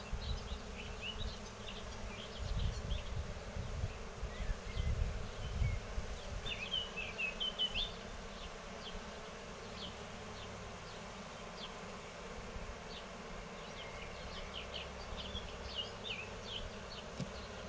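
Honeybees filling an open hive box between frames, a dense, steady buzz of many insects close by, with individual bees whining past now and then and no talking.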